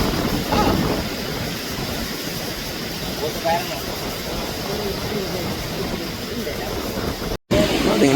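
Passenger airplane flying overhead near Palaly airport, a broad steady roar sustained across the clip with someone speaking over it.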